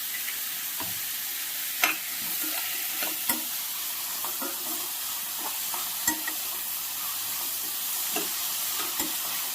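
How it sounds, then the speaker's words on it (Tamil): Onions frying in a pan with a pinch of salt, the first step of ghee rice, make a steady close sizzle broken by sharp clinks and scrapes of a stirring spoon, with no voices. "வெங்காயம் நல்லா பொரியறதுக்காக நான் கொஞ்சம் சால்ட் ஆட் பண்ணுறேன்."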